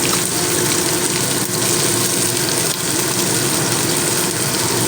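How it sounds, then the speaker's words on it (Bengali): Chopped onions hit hot mustard oil in a pan, giving a loud, steady, broadband sizzle that stays dense and continuous throughout, with no talking. "তেলটা গরম হয়ে গিয়েছে এবার দেবো কেটে রাখা পেঁয়াজ দিয়ে দিলাম"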